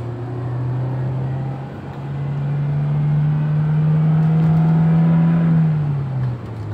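A Toyota Innova Reborn is held in third gear while the engine is given throttle at low speed. It rises into a long, steady rev that sustains its pitch, then drops off near the end, heard from inside the car.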